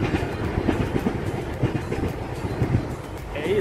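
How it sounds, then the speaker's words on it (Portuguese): A train crosses the Laguna bridge with a steady low rumble and a rhythmic clickety-clack of wheels on rail joints, loud and close throughout. "O trem está por passando aqui."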